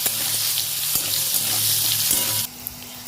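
Pumpkin pieces fry in hot oil with salt and turmeric, giving a loud, steady, close sizzle that drops to a softer hiss near the end.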